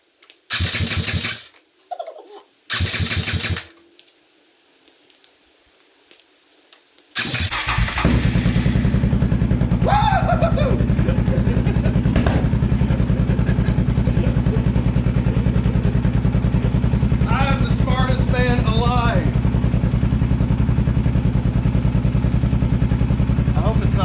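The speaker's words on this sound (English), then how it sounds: "No bad motor sounds." A Suzuki DR650 single-cylinder motorcycle, freshly rebuilt with a new base gasket, cranks in a couple of short bursts, then fires and settles into a loud, steady idle, with brief voices over it.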